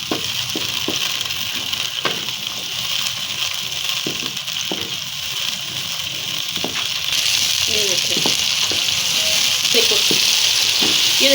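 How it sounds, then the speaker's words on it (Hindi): Peas and masala fry in a hot pan with a continuous sizzle and crackle, occasional stirring clicks, growing slightly louder toward the end. "हम इसको 5 मिनट तक हम इसको फ्राई करेंगे।"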